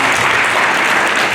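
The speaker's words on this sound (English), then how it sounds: "A big round of applause," Conference audience at a plenary panel applauding in a steady, dense, loud wash of many hands clapping together, with no voices on top.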